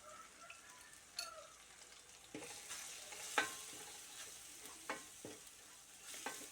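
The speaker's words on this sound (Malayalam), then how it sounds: "ഇത് മൂന്നും കൂടി ഇട്ട് കൊടുത്ത് നമ്മൾ നന്നായിട്ടൊന്ന് ഇളക്കി കൊടുക്കണം" Garam masala, coriander and chilli powder are stirred into tomato frying in a pan for Kerala-style mutton varattiyathu, giving a soft steady sizzle broken by occasional spoon scrapes and taps on the pan.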